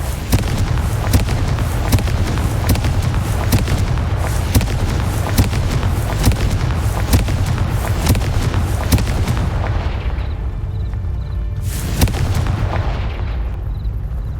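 Confringo fire spells blast in Hogwarts Legacy, a dense run of loud, rapid explosive booms and cracks layered over a rumbling combat background, easing off near the end.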